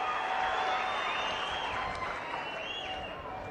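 Crowd applause at a Telugu political rally addressed by Chief Minister Chandrababu, a broad steady wash of clapping that holds for several seconds and thins slightly at the end, with a faint voice over it.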